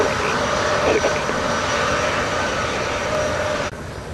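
An American Airlines Airbus on approach to land on runway 07 gives a steady, loud jet engine roar that holds evenly throughout and then drops off slightly near the end. A faint voice sits beneath the engine noise.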